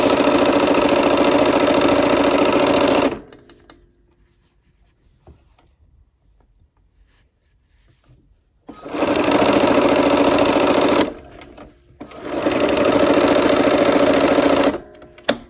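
A sewing machine stitches quilt blocks in loud, steady bursts of rapid whirring: a long run, a pause of quiet handling, then two more runs split by a brief stop.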